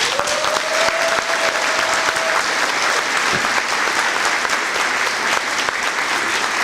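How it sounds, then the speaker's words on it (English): Parents applauding students at an elementary school fifth grade promotion ceremony, loud steady applause filling the whole span. "So, parents, let's give these students a round of applause."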